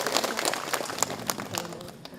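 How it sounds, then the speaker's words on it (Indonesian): Applause at an Islamic religious study gathering (pengajian), a scattered burst of hand claps from a modest crowd, fairly close and moderately loud, with some murmuring voices underneath. "Beri tepuk tangan yang meriah."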